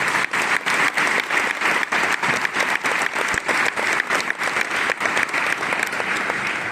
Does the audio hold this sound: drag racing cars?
no